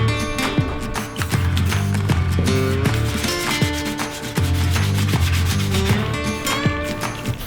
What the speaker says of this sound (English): Fortunately, primer gets sanded.